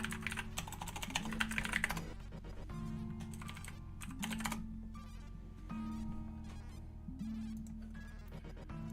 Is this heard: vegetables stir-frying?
no